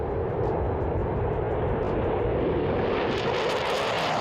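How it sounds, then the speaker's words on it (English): An F-15 Eagle fighter jet takes off with a loud, continuous broadband roar that swells and brightens toward the end, with no voices. "you can look at how an F-15 takes off"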